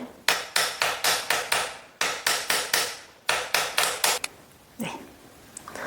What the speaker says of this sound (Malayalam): ഈ ഒരു ഭാഗത്തിന് ഞാൻ ഉള്ളിലേക്ക് ഒന്ന് അടിച്ചു കൊടുക്കുവാന്നേ